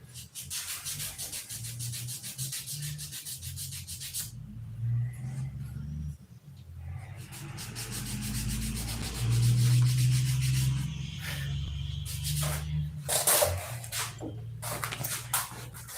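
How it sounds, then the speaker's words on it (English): Hand sanding paint on a P-47 model aircraft, soft repeated rubbing strokes close by, intermittent and uneven, with pauses and background voices and shop noise. "How much more sanding we gotta do?"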